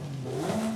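Forza Porsche 911 race car fitted with a new exhaust, a short rising rev under acceleration, loud and close, heard alone without any talking.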